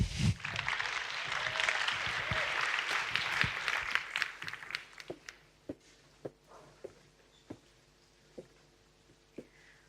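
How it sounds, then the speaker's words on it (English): Audience applause for a conference speaker, a dense burst of clapping for about five seconds that thins out into a few scattered, isolated claps before stopping. "So we can have a big round of applause for Jes."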